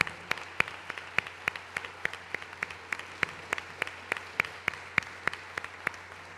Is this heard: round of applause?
yes